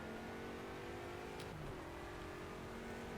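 A BMW E92 race car in the Project CARS racing game accelerates, its engine a steady droning note that holds at an even level throughout.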